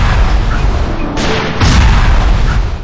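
Explosives set off by a shotgun shell in the Witch Hunter video game, a loud close boom followed by a deep rumbling blast that swells and lingers.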